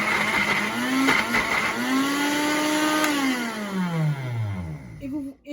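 A kitchen blender crushes blueberries for ice cream. The motor whines loudly and steadily, then its pitch sags and falls sharply as it slows near the end.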